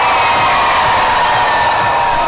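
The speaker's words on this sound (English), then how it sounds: "I want to hear you scream loud and proud so that Captain Minnie can hear you all the way from the bridge" A big crowd screams and cheers at a deck party aboard the Disney Wish cruise ship, a dense, loud, continuous roar of voices lasting a couple of seconds.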